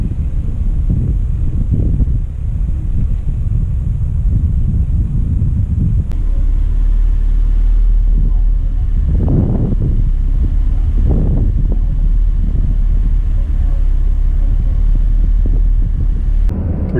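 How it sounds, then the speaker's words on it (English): Jeep Grand Cherokee ZJ with a 4.0 engine and manual transmission crawling up a hill in low-range first gear at idle, a loud, steady low rumble with wind buffeting across the microphone and occasional surges throughout. "Just dump the clutch, not touching the gas pedal at all."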